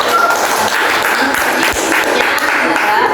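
Loud classroom applause for a presenting student group in an office management lesson, a dense wash of clapping with people talking over it throughout.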